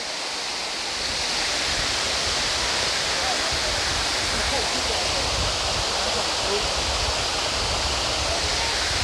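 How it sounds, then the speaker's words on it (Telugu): Stage 2 of Rani Duduma waterfall in Koraput, Odisha, roars as a loud, steady broadband rush of falling water that continues without a break and with no talking over it. "గాయస్ మీరు స్టేజ్ 2 వాటర్ఫాల్ చూడబోతున్నారు. క్రేజీగా ఉంది వాటర్ఫాల్ అయితే."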